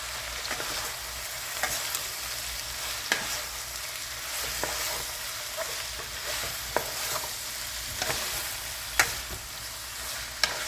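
Tomato sizzles in a hot frying pan for a braised drum fish or tilapia dish, with a steady crackling hiss, occasional stirring scrapes and soft clicks, fairly close and alone with no talking.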